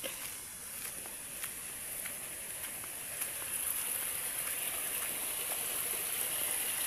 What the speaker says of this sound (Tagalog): Sa baba ay sapa.